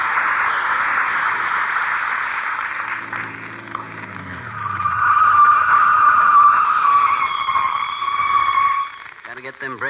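Radio comedy sound effect of car tires skidding, a long sustained squeal with a rising screech partway through, loud and near, ending abruptly.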